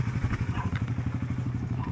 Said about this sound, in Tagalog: Start engine